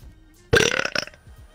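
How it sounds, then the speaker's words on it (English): A loud, close burp from a player during a Destiny 1 mission, a single rough guttural belch of about three quarters of a second that breaks up into a few croaking pulses before cutting off into near silence. "You alerted them with your burp"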